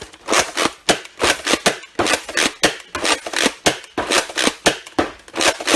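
A Nerf Rival Hypnos XIX-1200 blaster firing foam balls in rapid succession: sharp, close pops in a steady rhythm of roughly three shots per second, loud and continuous with no talk.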